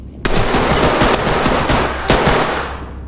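Gunfire in the tactical shooter game Ready or Not: two loud bursts of rapid automatic fire crack out, the first sustained for nearly two seconds and the second shorter, ringing off afterward.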